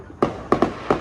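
New Year fireworks go off in four sharp, fairly close bangs, spaced unevenly over about a second, with faint background noise between the blasts.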